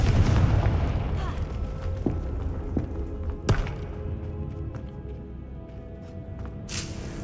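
In a Harry Potter video game, a Confringo blasting spell sets off a heavy booming explosion that rumbles and fades, followed by scattered sharp pops and cracks while a voice speaks.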